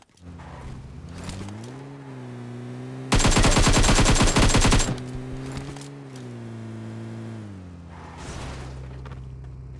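In a mobile battle royale game, an AKM rifle fires one long, loud automatic burst lasting about two seconds, set over the steady drone of a vehicle engine that rises and falls in pitch.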